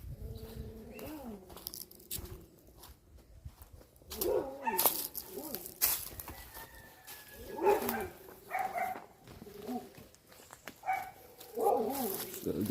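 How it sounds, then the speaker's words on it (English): A dog barks in a few scattered bursts outdoors near bushes, mixed with pigeons cooing and other birds, while people talk nearby. "Forgot you got a dog here."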